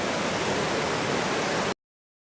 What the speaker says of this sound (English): GOGO Waterfall is found in Migori County.